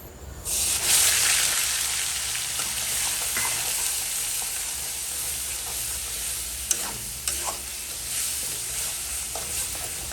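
Onion paste sizzles loudly in a pan for a soybean and potato curry, a continuous bright frying hiss with a few soft spoon scrapes and clinks as it is stirred.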